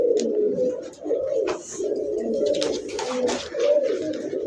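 Pigeons at a pigeon farm coo repeatedly in low, throaty, overlapping calls close to the listener, with a few sharper bird noises mixed in.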